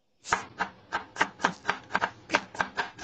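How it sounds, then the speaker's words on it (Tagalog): Onion being chopped with a knife on a cutting board for a potato omelette, about a dozen crisp, evenly spaced chops in a steady rhythm, close and clear with no talking. "maghiwa lang tayo ng sibuyas"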